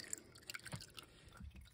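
Faint trickling and dripping water running in the tank of a gravity-fed heating system, a soft continuous liquid wash with small splashes, quiet and somewhat distant.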